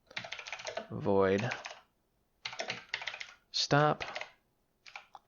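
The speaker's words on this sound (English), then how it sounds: "Thank you, keyboard, for ruining my video." Computer keyboard typing in short clattering bursts between spoken words, close and fairly loud, with someone talking over parts of it.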